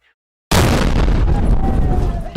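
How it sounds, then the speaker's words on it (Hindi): A car blast near the Red Fort in Delhi bursts suddenly out of silence as a loud, heavy boom, then rolls on as a sustained roaring rumble that fades only slightly by the end. "दिल्ली में हुआ एक ऐसा धमाका जिसने पूरे देश को हिलाकर रख दिया"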